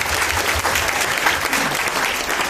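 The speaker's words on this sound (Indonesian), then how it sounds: "Tepuk tangan buat Pak Bin An" An audience at a motivational business event applauds a double star leader, steady dense clapping filling the room from start to finish with no talk over it.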